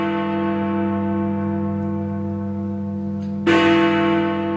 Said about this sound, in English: The bell was also rung 5 times at the city's Guildhall